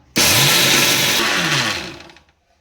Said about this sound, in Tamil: மிக்சியில் ஆட் பண்ணி அரைச்சி எடுத்துக்கலாம்.